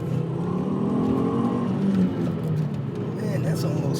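A Volvo S60R engine revs hard as the car accelerates up a freeway on-ramp, a steady, loud in-cabin drone that rises through the gears and holds for the whole stretch, with no ABS fitted.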